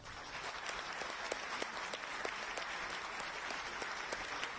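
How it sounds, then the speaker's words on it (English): Audience at the India–Italy Technology Summit in New Delhi applauding, a continuous, even clapping from a large crowd heard at a distance and fairly faint, with individual claps standing out now and then. "Please thank the dignitaries with a warm applause."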